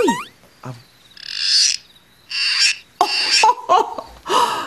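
A voice imitates a frog for a children's nursery-school puppet show, giving short croaking and chirping bursts in a loose rhythm, with brief pauses between calls, close and fairly loud.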